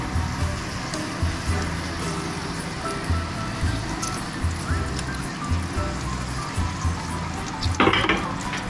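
Ghee heats in a pan for goat trotter paya, giving a steady low sizzle and crackle with soft rhythmic bumps throughout and a brief brighter hiss near the end.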